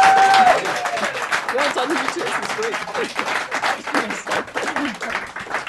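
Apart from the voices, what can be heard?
audience cheering and applauding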